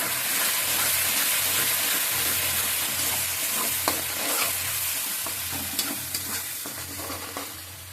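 Spice-marinated chicken for spinach chicken sautéed in a pan, a steady close sizzle with a rhythmic low scraping of stirring and occasional sharp utensil clicks, no talking.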